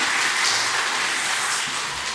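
Church congregation applauding to encourage the broadcast room team during a Sunday service, a steady, even wash of clapping filling the room at moderate level with no pauses.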